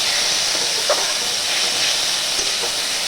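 Neem leaves and eggplant fry in a pan with a constant, close sizzling hiss, steady throughout, with a few faint clicks.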